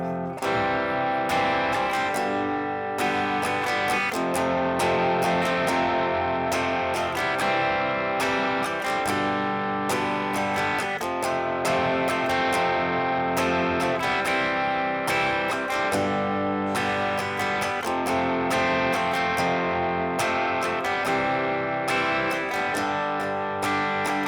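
A lightly distorted electric guitar plays the chorus of a song as steady strummed chords with held ringing notes. It sounds close and even in level, with no talking.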